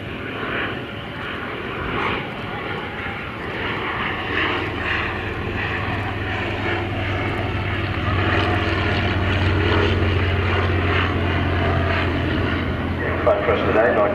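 A 1917 Bristol F2B fighter biplane takes off at an air show, its propeller engine giving a steady, rising drone that grows louder over time while an announcer talks over it.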